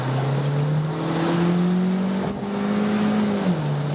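A VW T-Roc convertible, top down and in sports mode, accelerates hard on its turbo engine, a loud continuous engine tone rising steadily in pitch with a brief dip like a gear change, heard from close by without talk.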